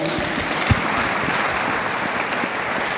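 A congregation applauds during an evangelist's church service, producing a dense, steady wash of clapping that runs the whole way through, with one sharper clap standing out early on.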